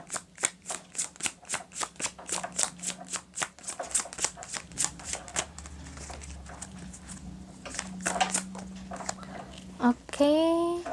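Tarot cards are shuffled in a rapid, rhythmic run of close riffling flicks that grows looser and sparser, ending in a brief burst of speech.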